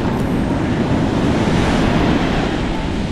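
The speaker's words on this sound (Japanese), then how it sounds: "いやー結構波今日高いぞ。" Rough high surf pounds a beach at Sendai in the early morning, a loud, continuous roar of breaking waves mixed with gusting wind buffeting the microphone.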